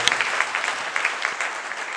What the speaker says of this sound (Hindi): एक बार सभी को जोरदार ताली बजा देंगे